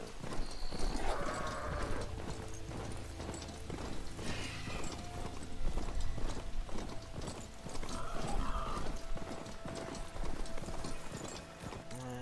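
Horse hooves clip-clop steadily at a gallop in Horizon Forbidden West, loud and continuous with a brief whinny, under game music and ambience.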